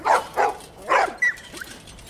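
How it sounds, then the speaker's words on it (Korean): Dogs bark in The Last of Us video game, a few quick barks and yips close by, followed by a short whimpering whine. "These dogs are all accounted for."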